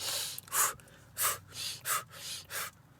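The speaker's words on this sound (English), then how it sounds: "I used to always breathe per rep" Rapid breathing in rhythm with each rep of a workout set, five quick, breathy inhale-exhale bursts in a steady pattern, close to the microphone and fairly quiet.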